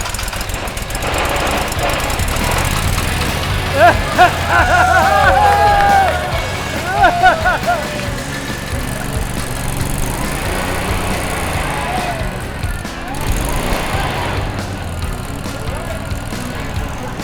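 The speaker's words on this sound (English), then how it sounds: "There is nothing really like the first time the engine turns over." A Monster Jam mini truck engine fires up and runs with a loud, fast, rattling chatter close by, rising and dipping in revs, with people talking and cheering around it.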